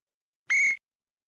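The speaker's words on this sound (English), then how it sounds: "That draws a whistle. He traveled." A referee's whistle at a basketball game gives one short, sharp, loud blast, standing alone in otherwise silent surroundings.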